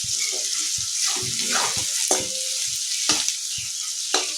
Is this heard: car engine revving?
no